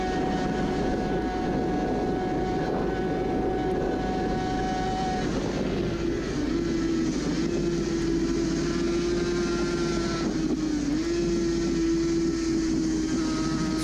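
A Suzuki RG500 racing motorcycle at about 150 mph on the Isle of Man course, captured onboard: a loud, sustained high engine whine that holds pitch, dips briefly, then climbs again over constant wind roar.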